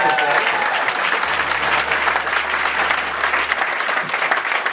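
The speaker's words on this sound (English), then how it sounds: "we're just welcoming with such warm applause" Warm, sustained applause from a small club audience welcoming Barney Bentall, a steady dense patter of clapping lasting several seconds without letup.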